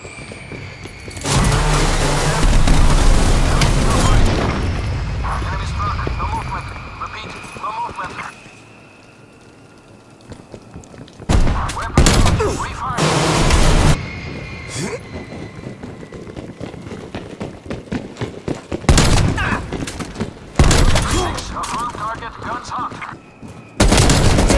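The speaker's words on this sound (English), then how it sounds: "Get a strafe run inbound." Strafe-run gunfire and explosions from Call of Duty Black Ops Cold War arrive in heavy bursts of rapid shots and booming blasts, loud and close, separated by quieter stretches.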